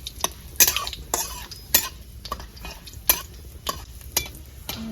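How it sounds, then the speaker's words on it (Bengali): Garlic frying in a pan, a soft sizzle under repeated sharp scrapes and clinks of a spatula stirring against the metal at an uneven rhythm. "রসুনটা আমার ভালো করে ভাজা হয়ে গেছে, বেশি ভাজলে আবার পুড়ে যাবে।"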